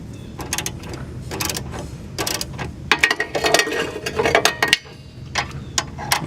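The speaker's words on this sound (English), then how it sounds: "Here I have my 15mm on the other end, and my adjustable wrench on here." Wrenches work a front end link on a Mazda3 at an awkward angle against the axle, giving irregular metallic clicks and ratcheting taps in bursts over a low background, with no talk.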